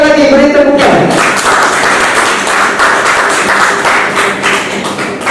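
Guests at a marriage registration ceremony break into loud, close applause. A brief voice comes first, then dense clapping continues steadily for several seconds.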